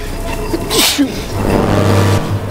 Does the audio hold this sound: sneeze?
yes